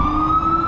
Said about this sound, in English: There's your sirens right there.